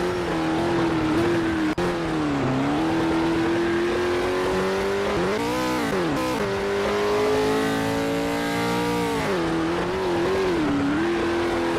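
A race car engine in a racing video game holds a loud, steady drone throughout, with revs rising and dipping and a brief surge near the middle as a car comes around. No voices are present.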